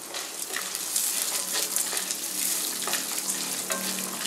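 Beetroot chutney ingredients frying in a pan over a low flame, a steady close sizzle with light crackles and occasional stirring scrapes, no voices.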